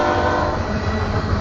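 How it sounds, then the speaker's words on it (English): A BNSF geometry train rushes past at speed on mainline track, a loud, steady roar of wheels and rail noise filling the whole short stretch with no talk. "this geometry train came passing the grain train"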